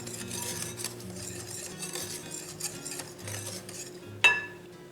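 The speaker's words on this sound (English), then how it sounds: "we'll whisk all this together" A whisk scrapes and clinks steadily around a bowl as dry baking ingredients for cinnamon pecan swirl bread are mixed together. The strokes are quick and rhythmic in a quiet kitchen, with one sharper clink near the end.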